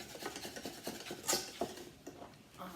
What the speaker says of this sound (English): I just kind of keep whisking it until all my powdered sugar is broken up.